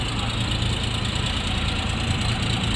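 A red Bulat 244L mini tractor engine idles steadily nearby, a constant rough mechanical chugging with no pauses.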